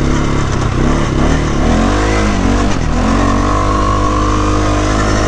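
A quad bike engine roars loud and close, a steady mid-pitched drone whose tone rises and falls as the machine drives along.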